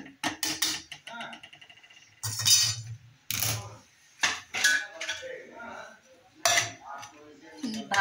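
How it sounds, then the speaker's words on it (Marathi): Cooked cluster bean (gavar) vegetable being served from the pan onto a plate, with a series of clear metallic clinks and scrapes of a spoon against cookware, coming in uneven bursts between pauses. "ही भाजी मी दाखवण्यासाठी प्लेटामध्येच काढून घेते कशी झाली ती भाजी."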